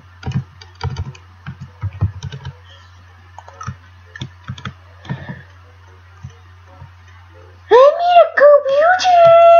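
Computer keyboard typing, a scattered run of light clicks and taps in a quiet room, then a voice breaks in with a loud wailing moan at the end.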